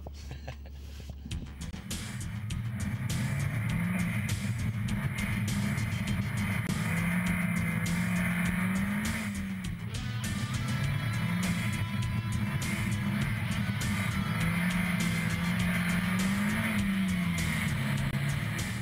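A car drifting on an ice driving course in Lapland, its engine droning steadily and rising and falling in pitch as the throttle is worked, heard continuously from inside with little else over it.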